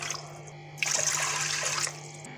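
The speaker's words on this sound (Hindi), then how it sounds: "देगची लेंगे, इसमें हम डालेंगे 2 गिलास पानी।" Two glasses of water are poured into a cooking pot (degchi), a bright splashing gush lasting about a second, close and clear with no talk.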